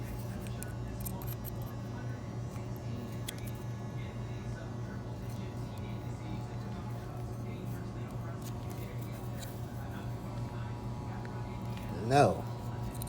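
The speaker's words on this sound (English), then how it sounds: "I can just snip this clip off." Cutters snip a plastic clip off while the battery in a Wahl shaver is being replaced, making one quick sharp snap near the end over a steady low background hum.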